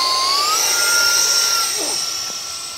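Electric ducted fan RC model of an F-14 with twin 40mm fans, hand-launched overhand: a steady, loud high-pitched turbine-like whine that rises in pitch early on and holds, sustained throughout.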